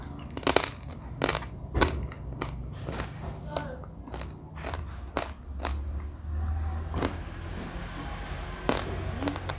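Crisp crunching and biting of oil-free cassava chips cooked in a Teflon pan, a dozen or so sharp close snaps spaced irregularly over a soft background.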